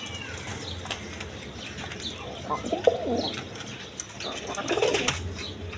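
Pigeons coo in short bursts at a pigeon farm, among a noisy, busy background with scattered chirps and rustles and no clear speech.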